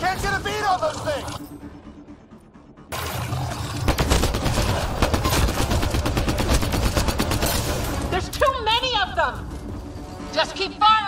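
Gunfire in the video game Mass Effect: Andromeda: dense, rapid automatic bursts rattling for several seconds in the middle, with voices shouting before and after the shooting and over it.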